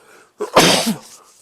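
A single sharp sneeze bursts out at close range after a brief quiet moment, then fades quickly.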